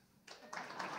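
Audience at a Saint-Jean festival show breaking into applause, a burst of clapping starting abruptly and building to a steady, fairly close patter.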